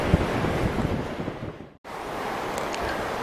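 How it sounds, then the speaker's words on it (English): Wind and surf on the Lake Michigan shore at Ludington State Park, a steady broadband roar of waves with gusty wind buffeting the microphone, dropping out briefly mid-clip before resuming. "with such wind and water and waves today"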